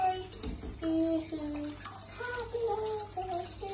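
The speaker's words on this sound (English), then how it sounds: "That's how you wash your hands" Water runs from a tap into a basin while hands are washed, a steady splashing and gurgling close by, with soft voices and singing faintly underneath.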